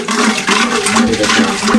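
Sugar being stirred into yogurt for sweet Punjabi lassi, a loud, continuous churning, sloshing whirl close by that holds steady for the whole stretch with no talk.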